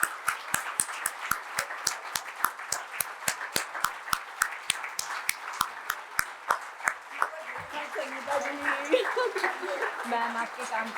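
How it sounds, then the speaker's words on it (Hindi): Applause from a packed hall in Nashik greets retired Lieutenant General Dr. Madhuri Kanitkar as she walks on stage: a steady stream of sharp claps that gives way to a mix of clapping and voices near the end. "तालियां रुकनी नहीं चाहिए जब तक वो स्टेज पे नहीं आ जाते"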